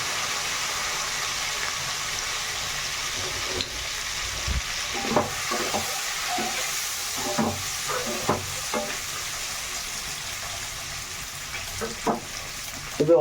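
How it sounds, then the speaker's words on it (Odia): Eggs fry in hot oil seasoned with turmeric for an Andhra-style egg curry, a soft continuous sizzle broken by scattered pops and spatula scrapes against the pan, moderately close. "ଏବେ ଅଣ୍ଡା ପକେଇ ଦେବା ଭାଜିଦେବା"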